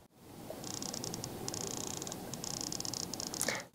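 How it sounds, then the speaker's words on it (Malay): Mechanical-style zoom slider on a Poco F8 Ultra phone camera, producing rapid faint ticking clicks in bursts over a soft background hiss, close and quiet with no talking. "bila slide untuk zoom tu dia ada bunyi macam mechanical"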